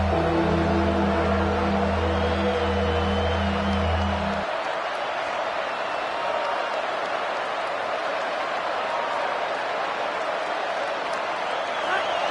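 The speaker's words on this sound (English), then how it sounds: "The crowd getting behind this defense as they try to get a stop in the red zone" Crowd at a Georgia at LSU college football stadium roaring in support of the defense, a broad sustained wash of cheering, with a low tonal hum in the first four seconds and steady crowd noise continuing after.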